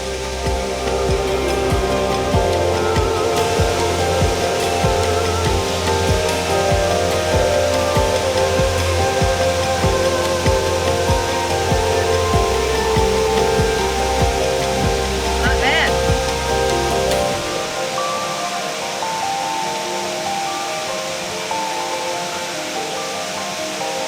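A waterfall roars loud and continuous as a broad, steady rush of falling water, close by and unbroken throughout.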